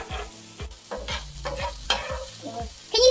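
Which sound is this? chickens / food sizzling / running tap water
food sizzling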